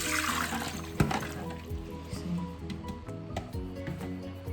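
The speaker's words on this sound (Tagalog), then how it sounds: "I-drain natin ang ating minarinate na pork chop" Marinated pork chops being drained, liquid trickling and splashing steadily up close, with a sharp knock near the start and a few quieter clatters as the marinade runs off.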